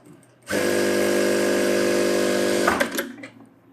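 A sewing machine stitches along a blouse lining edge in one steady, close, loud whirring burst of about two seconds, then slows to a halt with a few clicks and handling sounds.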